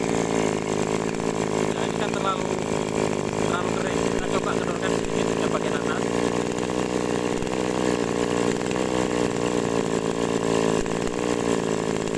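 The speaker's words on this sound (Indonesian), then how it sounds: "Kita coba gas RPM tinggi." A small two-stroke agricultural sprayer engine, one that struggles to rev, is pushed to high RPM, a loud buzzing drone close by with slight surges, while someone speaks over it.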